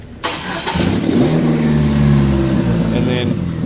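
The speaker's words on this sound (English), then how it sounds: "and you start up the vehicle" Car engine cranking and starting up during a charging system test, a quick starter whirr catching into a steady mid-pitched running hum, loud and close.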